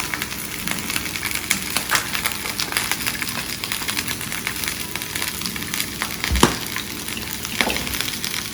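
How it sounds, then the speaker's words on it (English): Green beans sauteed with garlic salt crackle loudly in a pan, a busy close sizzle with scattered pops, light stirring scrapes and one sharp knock partway through, with no speech. "I'm going to make sure I saute the green beans really well before putting in the soy sauce."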